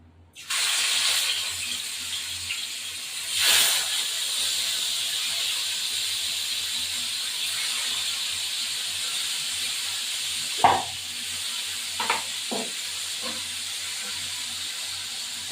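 Pieces of rohu fish sizzle in hot oil with a loud, steady hiss that starts abruptly and holds throughout, broken by a few sharp spits and clatters near the end.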